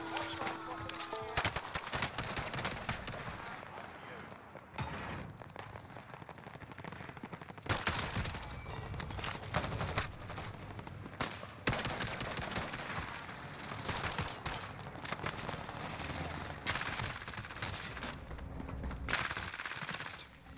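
Sustained automatic fire from an EM2 assault rifle in the Warzone video game, played on Rebirth Island: dense, rapid bursts that keep stopping and starting, loud and close throughout.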